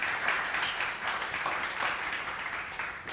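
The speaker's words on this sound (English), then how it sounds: "Should we give them all a round of applause to welcome them in?" An audience at an oncology panel event applauds to welcome three panelists, a moderate, steady patter of many hands clapping in a room, somewhat distant and even.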